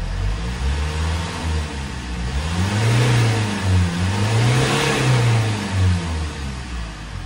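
Hyundai Grand Starex van engine, treated for misfiring and a check-engine fault, running and revving up and down in strong surges; the loud mid-pitched motor rises and falls in waves, close by with no talk.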